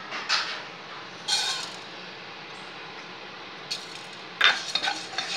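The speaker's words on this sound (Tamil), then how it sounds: "இப்போ வந்து நம்ம இந்த பாசிப்பருப்பை லைட்டாக வறுத்து எடுத்துக்கிறோம்" Moong dal is stirred as it dry-roasts in a pan for pongal, making short bursts of scraping and rattling between quiet stretches, with a faint sizzle and no talking.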